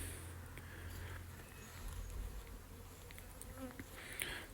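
Honeybees from a weak colony buzz around a long mini hive box during a transfer, a soft steady swarm hum with individual bees droning past close by, faint throughout with no talk.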